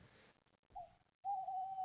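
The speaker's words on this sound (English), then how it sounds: "you can hear the owl come in there" An owl's hoot sounds twice, a short call and then a longer sustained one, clear and fairly loud against a quiet background.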